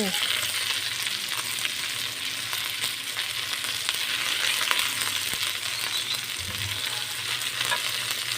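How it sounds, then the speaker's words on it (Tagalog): String beans (sitaw) sauté in a hot pan, giving a steady bright sizzle and crackle with occasional stirring scrapes and light knocks of the utensil, close and continuous without talk. "Guys, ginigisa ko talaga yung sitaw."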